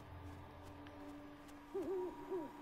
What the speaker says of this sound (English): there's an owl there